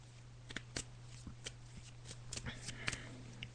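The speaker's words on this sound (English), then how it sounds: "Okay, Aaron, so I'm just shuffling the cards." Tarot cards are shuffled by hand in a series of soft, irregular riffling and slapping bursts, close and quiet over a low steady hum.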